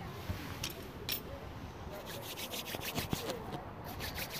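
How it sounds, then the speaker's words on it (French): A person rubs their hands together briskly during an energy ritual, producing a soft, continuous dry swishing of skin on skin that comes in faint repeated strokes, close by. "Là je frotte mes mains pour pouvoir activer davantage"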